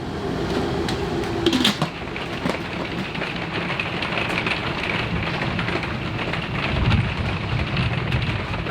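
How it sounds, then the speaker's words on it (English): Heavy pouring rain drumming steadily and close, a dense continuous wash with scattered louder drips and a brief knock early on. "it's like pouring rain"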